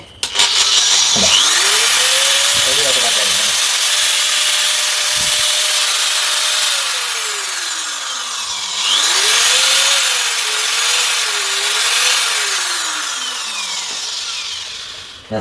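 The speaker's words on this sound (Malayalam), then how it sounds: "ഏകദേശം 850 വാട്ട്സ് വരുന്ന ഗ്രൈൻഡർ" An iBell 850-watt grinder powered through a 1000-watt mini power inverter whirs loudly and steadily, its motor whine spinning up, sagging and climbing again in pitch as the speed varies, with no talking.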